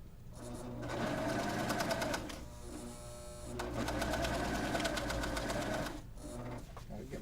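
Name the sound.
Husqvarna Viking Amber Air S|500 sewing machine stitching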